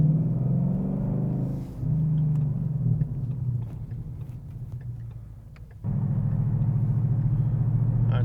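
A 2015-2017 Ford Mustang GT with an AWE stainless steel 3-inch Track Edition cat-back exhaust cruises on the highway at about 2,000 RPM and 65 mph, giving a steady low rumble that dips midway and then swells again.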